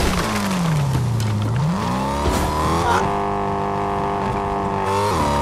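A car drifting in Fortnite, its engine revving in rising and falling harmonic sweeps with tire squeal over a steady loud drone, the pitch dipping and then climbing before settling into a sustained high whine.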